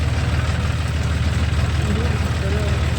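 Tractor engine pulling a loaded trolley of wheat, a close, steady low throbbing idle with a regular pulse, voices talking faintly over it.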